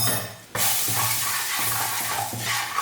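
Spices are stirred into beef for mandi in a hot pan, with a loud, steady sizzle that swells suddenly and keeps going close up, and a spatula scraping through it now and then.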